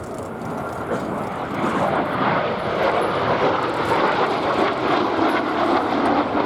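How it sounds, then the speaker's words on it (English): A Hawker Siddeley Gnat jet, one painted in the full Red Arrows scheme, flying a display at the Duxford airshow in the UK, giving a loud, steady, broadband roar throughout without any voices. "So in these 2 aircraft today, we have one painted as the Red Arrows, full Red Arrows Gnat"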